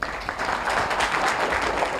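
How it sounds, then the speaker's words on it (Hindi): Applause breaks out in a madrasa classroom for a student who answered a question correctly, a steady two-second burst of clapping from a group of children. "इनके लिए तालियां हो जाए।"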